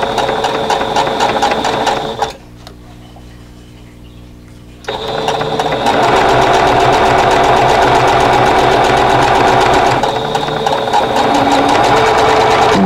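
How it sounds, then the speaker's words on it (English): A sewing machine stitching a quilt block runs loud and steady with a fast mechanical whir, stops briefly leaving a faint hum, then starts again and keeps running at full speed. "I'm just going to sew right off the edge and do the next one."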